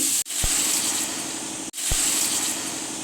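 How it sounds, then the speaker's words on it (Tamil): Water poured from a vessel into a pot of chopped vegetables for sambar, a steady gushing pour with two short breaks, close and fairly loud, with no talking. "போட்டுட்டு தண்ணி ஊற்றிக்கலாம்."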